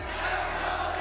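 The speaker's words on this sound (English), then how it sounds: "I think the crowd, I mean, there was a lot of Aspas fans in here." An arena crowd of esports fans at a Valorant Masters Shanghai draw show gives a loud, sustained roar that fills the whole short moment.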